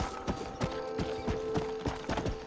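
Horse hooves clatter down stone stairs in the Red Dead Redemption video game, a steady run of sharp, close clip-clop strikes with no voices over them.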